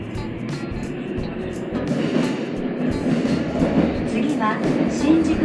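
Tokyo Metro Fukutoshin line subway train running near Higashi-shinjuku, a steady loud rumble with wheel and rail clatter throughout, with faint onboard announcement voices in the background.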